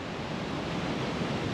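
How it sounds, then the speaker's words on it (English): A fast-flowing river rushing through remote New Zealand backcountry, a steady broadband roar of churning water, close and constant for a brief moment with no voices. "The river is pumping."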